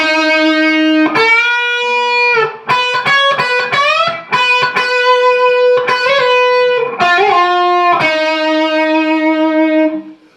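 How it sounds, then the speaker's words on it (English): A distorted electric guitar plays a second-half solo, loud and close, with sustained sung-like notes, bends and quick picked runs, alone without talk. "So the second half of the guitar 2 solo will sound like this."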